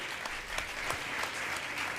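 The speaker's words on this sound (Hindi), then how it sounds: "जोरदार ताली बजाकर मेरी बात का आप समर्थन करें।" A crowd claps loudly and continuously at a Jain religious question-and-answer gathering in Mithapur, Patna, a steady dense wash of applause with no pauses.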